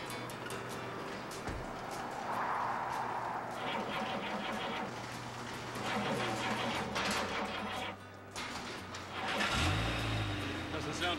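A car engine struggles to start in cold weather, cranking and sputtering with rough surges of mid-range engine noise, then briefly revving, with voices talking over it.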